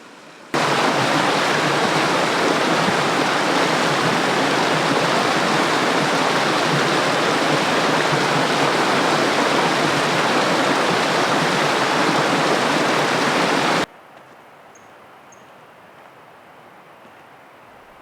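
The Middle Fork Kings River rushes loudly and steadily through a granite canyon, a dense unbroken roar of whitewater. It cuts off abruptly near the end, leaving quiet outdoor ambience with a few faint bird chirps.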